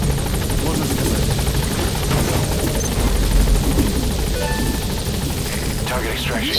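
A helicopter in the video game Metal Gear Solid V whirs continuously and loudly with a throbbing rotor drone, joined by faint beeps and electronic game sounds, with a voice speaking over it.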